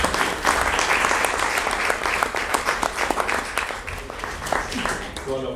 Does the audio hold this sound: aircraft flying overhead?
no